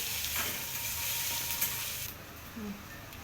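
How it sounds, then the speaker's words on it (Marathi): Finely chopped onions sizzle steadily in hot oil in a pan, a continuous close frying hiss with occasional light stirring scrapes, dropping off slightly toward the end. "त्यामध्ये बारीक चिरलेले कांदे टाकले. कांदे गुलाबीसर होईपर्यंत भाजून घ्यायचे"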